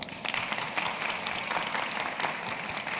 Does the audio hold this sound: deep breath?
no